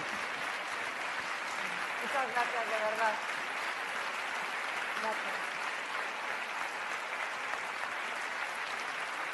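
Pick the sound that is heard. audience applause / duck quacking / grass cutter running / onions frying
audience applause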